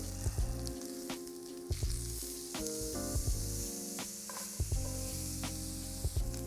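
A burger patty, pressed under a weight, sears on a hot surface with a loud, continuous sizzle and crackle, close and uninterrupted, with no voices.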